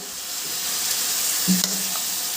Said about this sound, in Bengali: এবার আমি দিয়ে দিচ্ছি সামান্য একটু জল